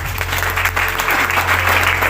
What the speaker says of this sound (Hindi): चलो एक बार तालियां बजाएगा।